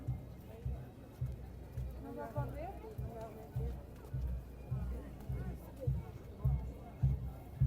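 Hooves of police horses clop in a steady, regular rhythm on pavement at a Changing of the Guard crowd scene, moderately near under a murmur of onlookers and a talking voice.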